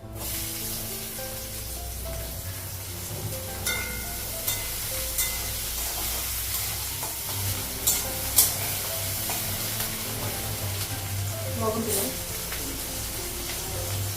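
Onions frying in hot oil with panch phoron spices in a home kitchen pan, giving a steady sizzle with occasional scrapes and clinks as they are stirred, moderately close, with no talk.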